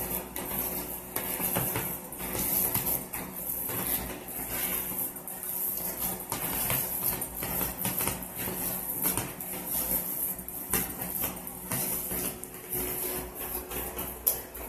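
Meatball mixture being mixed by hand after Parmesan cheese is added, a steady run of soft squishing and clinking over a persistent low hum, fairly close and continuous with no talking.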